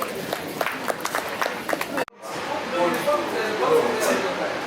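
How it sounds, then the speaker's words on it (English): Audience applause after an oath of office: a couple of seconds of scattered sharp claps, a brief cut, then a dense, steady wash of many hands that swells slightly toward the end. "Give yourselves a round of applause."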